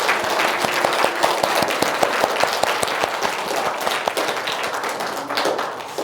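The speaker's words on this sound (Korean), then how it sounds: "우리 이효순 집사에게 환영의 박수를 보내줬으면 좋겠습니다." A church congregation at a Sunday worship service applauds to welcome a returning member, with many hands clapping in a lively burst and a few sharp, rhythmic claps standing out near the front.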